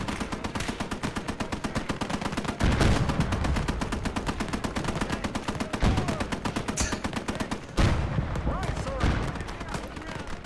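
Sustained rapid gunfire in the WWII strategy game Gates of Hell, steady automatic bursts rattling for seconds with a few heavier booming impacts, people talking over the din.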